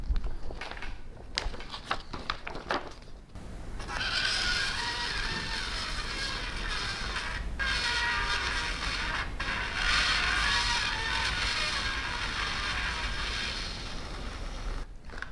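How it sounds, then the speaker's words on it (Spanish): Vinyl record played back with just a pointed piece of plastic as a needle gives a steady, scratchy, creaky mechanical hiss with faint music, starting after a few seconds of handling clicks and continuing loud and unbroken with small skips. "simplemente con un trozo de plástico puntiagudo somos capaces de reproducir un vinilo"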